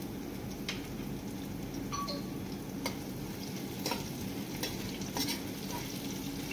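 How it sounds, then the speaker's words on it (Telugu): Chopped ginger and slit green chillies fry in a pan for dal khichdi: a quiet, steady sizzle with soft crackle and a few stirring clicks and taps, close by, with no voices. "తరిగిన అల్లం ముక్కలు వేసేసి ఒక 1 మినిట్ ఫ్రై చేసుకొని ఒక 6-7 పచ్చిమిర్చి చీలికలు వేసుకోవాలి."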